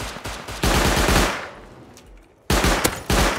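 Bursts of automatic gunfire from a Rust raid, shooting at an enemy player: a dense rapid volley, a brief lull with fading echo, then renewed sharp bursts, loud and close with no talk.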